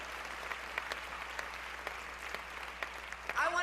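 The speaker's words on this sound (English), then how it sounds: "So let's give Janet Murguia another round of applause for her service." Crowd applause for Janet Murguia at the La Raza conference, a steady wash of clapping heard at moderate distance across the hall, with a brief louder burst at the end.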